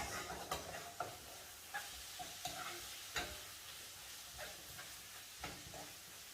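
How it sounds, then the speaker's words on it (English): Saltfish and chopped vegetables stirred in a pan: a spoon scrapes and knocks against the pan in irregular strokes, each with a brief clatter, over a faint, soft sizzle, with no talking. "So I'm combining the saltfish with the veggies before I add my ackee to it."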